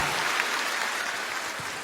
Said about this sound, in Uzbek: Bitta qarsak chalib qo'yaylik.